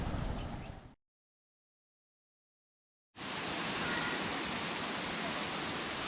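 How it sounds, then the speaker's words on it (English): Continuous roar of rushing, falling water at Little Mertens Falls in the Kimberley, Australia, broad and steady, cutting out briefly to silence before resuming just as strong. "These are the Little Mertens Falls."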